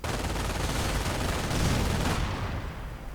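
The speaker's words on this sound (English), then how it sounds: "American sniper continues to snipe away now that there is no German sniper" Sniper rifle and MG42 machine gun fire in a World War II strategy game battle, dense overlapping bursts of gunfire crackling loudly and continuously, tailing off slightly at the end.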